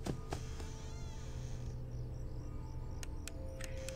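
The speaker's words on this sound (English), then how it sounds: "The crickets are too loud." Continuous shrill cricket chirping in Five Nights at Freddy's 4 drones over a low ambient hum, with a few sharp clicks and faint higher chirps near the end.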